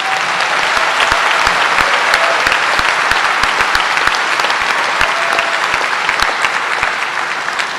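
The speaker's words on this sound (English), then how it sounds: "Please join me in applauding our summa cum laude recipients." A high school graduation audience applauding summa cum laude recipients, dense steady clapping from a large crowd that continues throughout.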